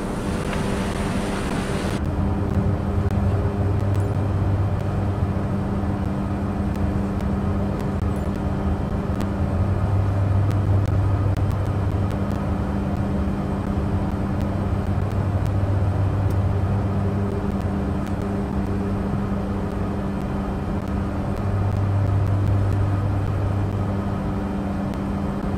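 Cessna 208 Caravan turboprop at Phnom Penh airport, a steady loud engine drone with a low pulsing rumble that swells and fades in slow cycles, heard from inside the cabin.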